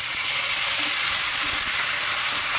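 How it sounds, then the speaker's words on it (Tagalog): Tomato and ginger sizzle loudly in a hot pan with garlic and onion, a continuous, close hiss of frying with no pauses. "Sabayin ko na rin yung kamatis sa kaluya."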